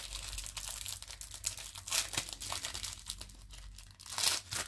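Small kraft paper pouches are opened with soft, continuous crinkling and rustling, plus a few sharper crackles, all fairly quiet and close.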